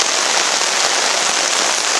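Heavy tropical rain pours down steadily in a dense, unbroken hiss, loud and close, with no voices.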